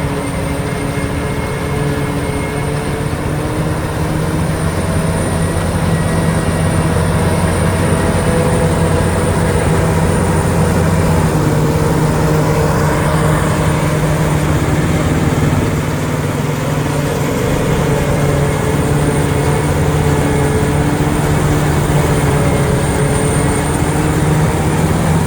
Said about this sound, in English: There's just like a jungle of corn going into the chopper.